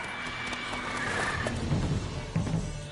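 Roach, Geralt's horse in The Witcher 3: Wild Hunt, gives a neigh among snorts and shifting hoof sounds, moderately close, with a faint game ambience behind.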